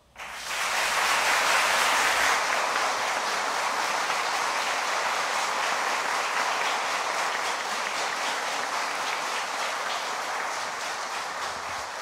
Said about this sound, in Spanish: El público les puede brindar un merecido aplauso.